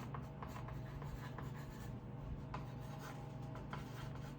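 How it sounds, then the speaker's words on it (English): A marker or pen writes a label on a wooden dollhouse part, a steady close scratching and rubbing that runs continuously over a low background hum, with no talking. "I'm going to write top floor"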